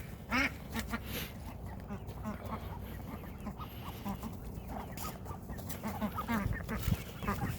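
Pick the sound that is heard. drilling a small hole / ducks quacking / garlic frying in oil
ducks quacking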